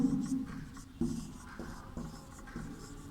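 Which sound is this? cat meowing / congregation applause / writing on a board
writing on a board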